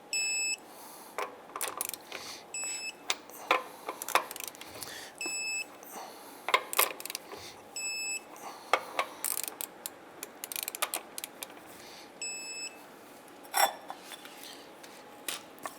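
Torque wrench tightening the driver's side rear wheel of a 1995-2001 Ford Explorer to 100 foot-pounds, heard as sharp metallic clicks and ratcheting ticks scattered through the clip, with occasional clanks of tools against metal.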